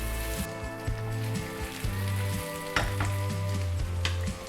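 Potatoes and onion frying in oil get stirred, a steady close sizzle broken by several scraping stirs and clinks of the utensil against the pan, with no talking.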